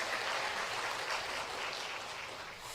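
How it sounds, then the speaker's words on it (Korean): A church congregation at a Sunday service in Jeju claps together in sustained, even applause that fades slightly toward the end, with no voices over it. "하나님께 영광을 박수 올리겠습니다."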